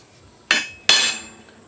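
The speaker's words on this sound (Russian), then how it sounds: "сейчас накерним" Two sharp metallic hammer strikes on a center punch marking metal, each ringing briefly and fading, spaced about half a second apart.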